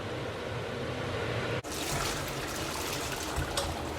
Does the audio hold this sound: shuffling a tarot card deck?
no